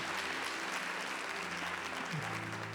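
A church congregation applauds at a Mass led by a Catholic priest. The clapping is broad and sustained, a dense wash that fills the space, and a low hum runs beneath it.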